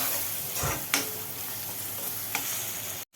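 Onion and tomato frying in oil with a pinch of turmeric, stirred in a pan for Karnataka-style susla: a steady close sizzle with a few sharp scraping strokes of the spoon, ending in a brief cut-off.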